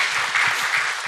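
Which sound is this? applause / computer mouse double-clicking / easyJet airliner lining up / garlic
applause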